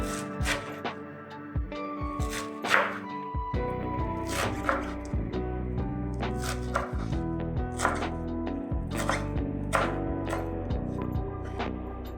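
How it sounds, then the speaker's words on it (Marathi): Goosefoot (chakvat) leaves being finely chopped with a knife on a board: a run of quick, irregular cutting taps throughout, heard over steady background music. "तर आता आपण हिला बारीक चिरून घ्यायची"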